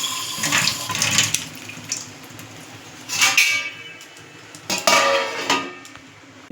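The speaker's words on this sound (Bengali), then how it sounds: "একটুকু জল দিলাম কারণ আলুটা সিদ্ধ হওয়ার ব্যাপার আছে।" Water is poured into a cooking pan holding potatoes, a splashing, sloshing pour with clinks of utensils against the pan, loud and close, in a few separate bursts.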